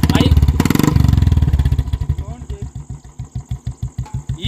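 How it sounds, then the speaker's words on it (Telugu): Royal Enfield Bullet motorcycle fitted with a very loud aftermarket silencer, idling close by with a deep, steady thumping beat after a brief louder burst at the start. "ఈ సౌండ్ ఎలా ఉంది బుల్లెట్ ది?"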